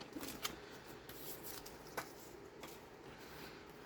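Gunked-up scissors cut paper for a four-panel folio craft, making faint, close snips and rustles, with a few sharper cuts spread across a quiet stretch and no voices.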